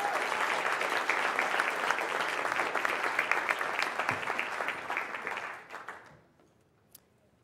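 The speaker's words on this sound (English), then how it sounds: "Let's give Elizabeth another round of applause." Sustained audience applause at a teacher of the year award ceremony honoring Elizabeth, a steady dense clatter of many hands that thins out and stops near the end, with a single clap after.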